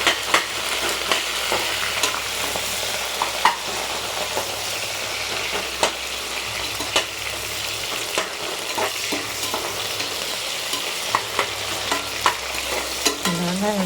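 Chopped onions fry in a hot pan with a steady, bright sizzle, while a spoon scrapes and stirs in regular soft knocks, close and with no talking.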